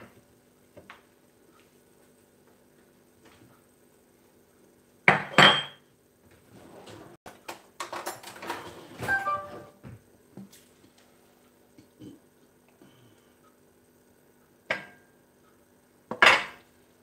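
Sporadic clinks and clatters of dishes and cutlery while plating up a Thai king prawn noodle dish, a few sharp knocks separated by quiet pauses, close by in a calm kitchen.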